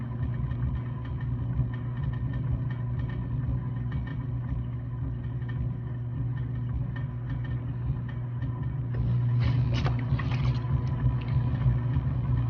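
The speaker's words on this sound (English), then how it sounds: "it's like the wheel is changing its speed pretty significantly while I'm doing stuff." A pottery wheel spins while a larger lump of clay is centered, giving a faint, steady low hum that swells slightly near the end.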